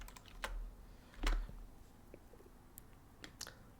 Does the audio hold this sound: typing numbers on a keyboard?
yes